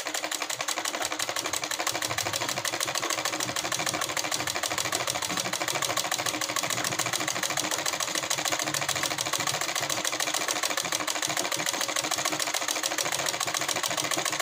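Sewing machine running a wavy lahariya stitch along a semi-Patiala salwar hem, a rapid, even needle chatter that runs steadily and alone for the whole clip.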